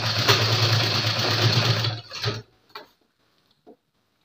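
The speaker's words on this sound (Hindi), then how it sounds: "अब मैं ऐसे आगे की साइड में सिलाई लगा लूंगा" A sewing machine stitches the lining of a kurta, a steady loud whir for about two seconds, then it stops, followed by a few faint clicks.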